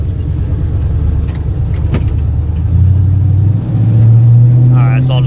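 A 1987 Dodge W150 pickup with longtube headers pulls away from a stop sign, its low exhaust rumble rising steadily as it accelerates, close and continuous, with a brief voice near the end.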